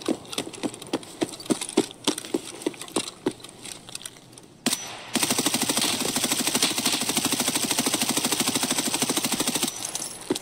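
Rapid gunfire bursts in Escape from Tarkov, sharp repeated shots early giving way to a dense, sustained volley of automatic fire striking the player from behind, loud and close throughout.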